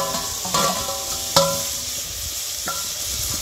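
Onions and tomatoes fry for Maggi noodles in a pan on an outdoor wood-fired stove, a steady close sizzle broken by a few sharp clanks of a spoon against the pan.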